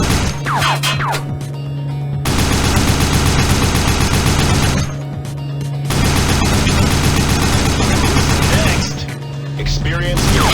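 Machine gun fire from a combat video game roars almost nonstop, dense and loud, broken by two short pauses, with a steady electronic hum and game effects layered beneath.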